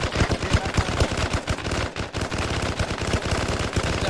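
Rapid automatic gunfire from an M60 main battle tank's gun in the video game Operation Aeroguard, loud, close bursts of fast repeated shots running almost continuously with a brief gap midway.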